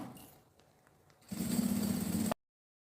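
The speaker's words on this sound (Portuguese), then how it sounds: "Uma costura com um pé de máquina," A sewing machine stitches a seam around a handmade suitcase, a steady loud mechanical whir running for about a second after quieter handling noises, then stopping abruptly.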